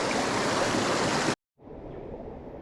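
A mountain stream in the Sri Pada Peak Wilderness Sanctuary flows with a steady, loud, close rush; it cuts off abruptly for a moment, then resumes noticeably quieter.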